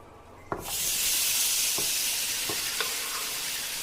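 Chopped tomatoes and finely cut beetroot drop into a hot kadai and burst into a loud, steady sizzle that holds throughout, with a few clinks of a stirring spoon against the pan.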